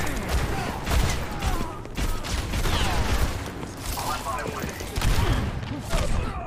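Gunfire in a video game, with dense, continuous shooting and mechanical clatter in a loud, sustained exchange that keeps going without a pause.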